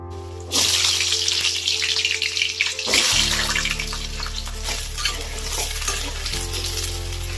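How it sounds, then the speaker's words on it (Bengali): Lentils for khichuri fry and get stirred in a hot pan, making a loud, rushing sizzle with repeated scraping strokes that carries on over soft background music. "চলো এবার এসবগুলো সব ভেজে নেওয়া যাক।"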